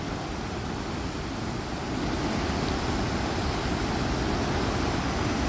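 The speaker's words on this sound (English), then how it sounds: "Mississippi River rapids flowing over the Chain of Rocks." Mississippi River rapids pour over the Chain of Rocks, a constant, powerful rushing roar of turbulent water that stays steady and broadband throughout, with no voices.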